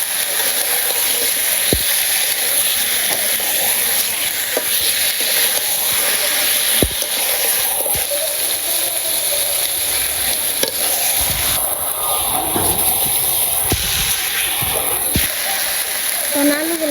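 Meat sizzles loudly in a pan of fried spice paste in a village kitchen, with a steady close hiss, stirring scrapes and occasional clacks, as a person talks over it.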